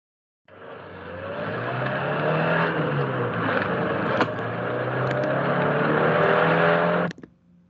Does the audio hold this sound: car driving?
yes